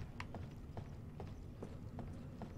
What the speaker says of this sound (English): I hear the footstep.